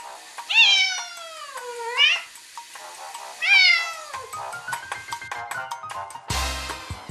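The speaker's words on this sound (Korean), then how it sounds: "앞부분은 되게 높은 음으로 뭐 이를테면 야옹 이런 기본 음이고, 뒤쪽은 약간 혀를 굴리듯이 르릉 이 기반으로 해가지고 소리를 내고 있거든요" A cat named Tori cries at night: three drawn-out, high, wavering meows close by, then a softer run of quick clicking, rolling trill-like chirps, ending in a brief louder burst.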